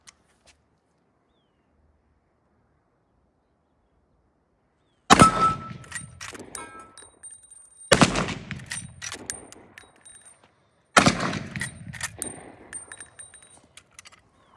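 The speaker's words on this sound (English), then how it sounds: "I'll shoot the orange heart, and then I'll just put a couple in the dirt bank over here just so you can watch the recoil." Three loud .50 caliber handgun shots are fired outdoors into an orange heart target and a dirt bank. Each sharp blast rings out with a long decaying echo, roughly three seconds apart, after a stretch of silence.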